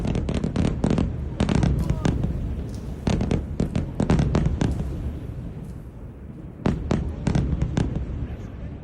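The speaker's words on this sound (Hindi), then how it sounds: "आधी रात बेरूत के दक्षिण में साउथ में बमबारी हुई है। धमाकों की आवाज से दहला है पूरा इलाका।" Repeated loud explosions from overnight bombing in southern Beirut, arriving in close irregular bursts of sharp blasts with rumbling tails, with brief pauses between clusters.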